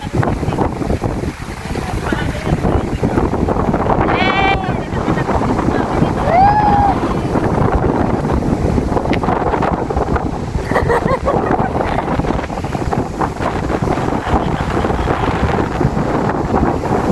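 Strong wind buffets the microphone in a constant roar beside the water, with brief voices and exclamations breaking through the blustery noise.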